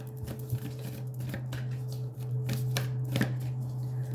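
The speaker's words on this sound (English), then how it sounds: "Just gonna give this here a little shuffle." Tarot cards riffle and snap in quick bursts, close up, with brief pauses between shuffles and a steady low hum underneath.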